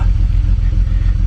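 A BMW 330i drift car engine idling after an eBay header install, a loud, close, low rhythmic rumble with a steady pulsing throb throughout.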